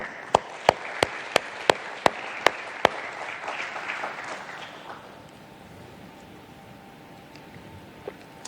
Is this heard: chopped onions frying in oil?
no